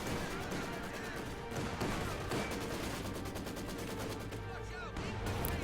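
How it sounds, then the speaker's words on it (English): Anti-tank gun fire amid a dense battle in the video game Company of Heroes 2, with a continuous wash of gunfire and bursts throughout and a voice talking over it. "First anti-tank gun shot hits."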